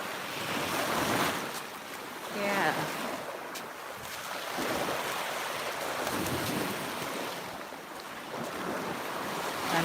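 Sea waves roll in on a beach in Thailand, surging and receding in broad, loud swells with heavy wind buffeting the microphone, and a faint voice now and then underneath.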